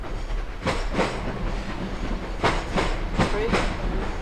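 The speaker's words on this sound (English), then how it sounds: "look at train, look at train." A train passes close by with a steady rumble and repeated clickety-clack bursts of wheels over rail joints, loud and continuous across the moment.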